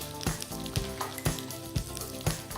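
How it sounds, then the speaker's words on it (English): Green beans with garlic sizzling in butter in a pan, a steady frying hiss with soft repeated stirring knocks roughly every half second, close and moderately quiet. "We just want to heat them up in the butter."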